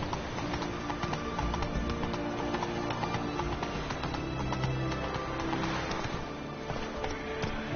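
Horse hooves clip-clop steadily at a gallop in The Witcher 3 video game, a continuous rhythmic drumming under dense game ambience and music throughout.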